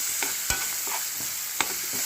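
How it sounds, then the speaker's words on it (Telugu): Green chillies sizzle quietly and steadily in a pan while a spatula scrapes and knocks against it a few times at uneven intervals. "ఇప్పుడు పచ్చిమిరపకాయలు వేసేసి ఇలా ఫుల్గా బాగా వేయించుకోవాలి"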